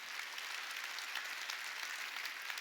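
Church congregation applauding during a Sunday worship service, a steady wash of many hands clapping that sounds distant and soft and holds evenly throughout.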